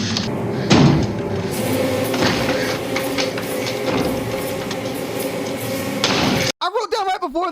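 A door slams sharply near the start during a scene from the film The Shining, followed by mechanical creaks and rumbling under the soundtrack, then a cut to people talking.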